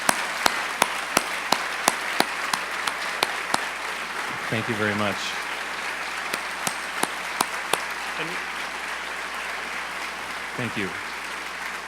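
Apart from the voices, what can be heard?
audience applause for the speaker at a book festival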